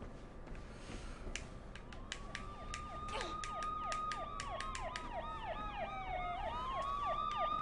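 Wailing sirens in Mirror's Edge rise and sweep repeatedly in the distance, growing louder over a rumbling background with sharp clicks and taps.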